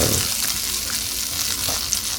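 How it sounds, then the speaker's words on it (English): Steady, busy sizzling of salmon burgers frying in a hot pan, a continuous crackling hiss with faint stirring, close and fairly loud. "you should know how hot it is from how fast it's sizzling"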